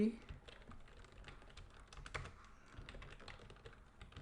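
Fingers type on a computer keyboard in a quiet room: a faint, irregular run of soft key clicks.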